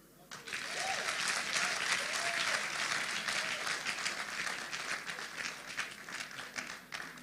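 Audience at a Nigerian public debate breaks into sustained applause, a dense, loud wash of clapping that swells quickly and holds steady for several seconds before easing slightly.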